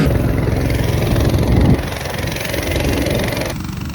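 A motorcycle engine idling and running on a road in Baja Mexico, a bike in need of a tune-up; a steady low rumble that drops slightly partway through and continues at a moderate, close level.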